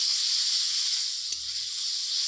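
A paste of ground cumin, ginger, green chilli and a little mustard hits hot oil in a frying pan with a broad, steady hiss. The sizzle is close and continuous, with a faint thump partway through.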